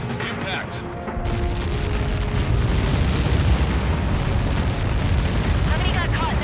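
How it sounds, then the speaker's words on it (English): Missile impact explosion in Ace Combat 7: a massive sustained roar swells in and rumbles on without pause, loud and dense, with radio chatter faint beneath it. "How many got caught in that explosion?"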